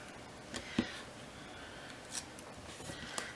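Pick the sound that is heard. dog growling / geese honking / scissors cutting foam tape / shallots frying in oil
scissors cutting foam tape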